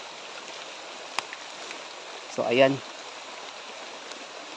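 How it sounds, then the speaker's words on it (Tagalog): Heavy rain gives a steady, even hiss throughout, with a few faint ticks and a brief spoken phrase partway through. "lakas ng ulan kasi"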